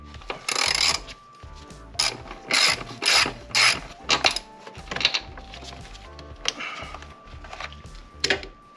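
A ratchet wrench turns a bolt out of a car during a clutch install, with quick bursts of clicking pawl strokes separated by short pauses, close and fairly loud with no talk.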